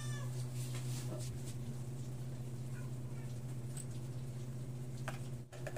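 A pet cat meows indoors, its soft calls faint and intermittent over a steady low hum.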